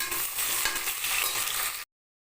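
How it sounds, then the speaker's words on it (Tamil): Two large onions frying with cashews in a pan for pudina rice, a dense hissing sizzle with faint stirring clicks that cuts off abruptly into silence after about two seconds. "ரெண்டு பெரிய வெங்காயம் அதையும் சேர்த்து நல்லா வறுத்து எடுத்துக்கலாம்"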